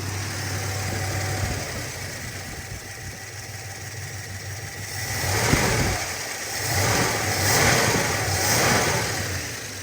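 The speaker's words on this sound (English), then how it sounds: "And it still wants to sit up on that high idle thing." A car engine stuck at high idle, humming steadily up close and then rising into a few surging revs that rise and fall.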